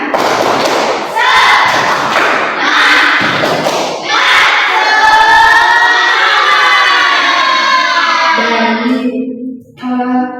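A primary school class claps a rhythmic spirit-clap chant together, loud bursts of hand claps mixed with children's voices chanting in unison, ending in a sung phrase.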